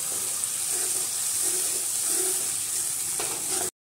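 Masala being sautéed in a pan for a potato curry, giving a steady, loud frying hiss with soft stirring scrapes, cut off abruptly at the end.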